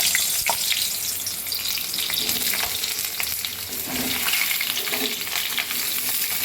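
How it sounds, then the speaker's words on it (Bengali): Steady, bright sizzling of pointed gourds frying in hot oil in a wok, close by, with occasional clinks and stirring scrapes throughout. "এবার পটলগুলো আমি ভাজতে দিচ্ছি।"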